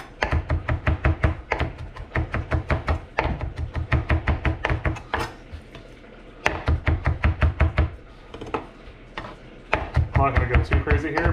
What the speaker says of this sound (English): Just a couple nice chops through there.